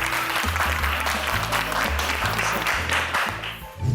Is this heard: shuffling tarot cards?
no